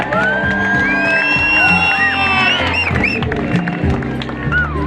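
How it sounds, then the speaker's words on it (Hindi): A crowd at an event in Jagdalpur cheers loudly for the chief minister, with shrill whoops and shouts rising over a dense, continuous roar of voices. "मुख्यमंत्री के लिए जोरदार ताली मारना है।"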